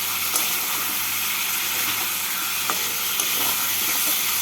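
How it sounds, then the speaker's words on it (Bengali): Spices frying together with vegetables in a pan, a steady soft sizzle and hiss running evenly throughout with an occasional faint tick of a utensil, no talking. "সবজির সাথে মশলাটাকে আমি দু মিনিট মতো ভেজে নিলাম"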